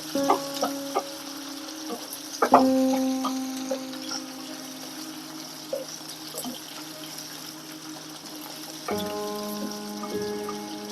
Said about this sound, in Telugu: ఉల్లిగడ్డ ఇలా కలుపుతూ ఉండాలి గోల్డెన్ కలర్ వచ్చే వరకు ఇలా ఉల్లిపాయ బాగా కలుపుతూ ఉండాలి